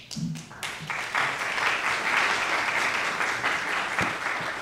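Audience at the James Otis Lecture, a courthouse lecture event, gives a sustained round of applause, steady and fairly close, with a faint voice at the very start.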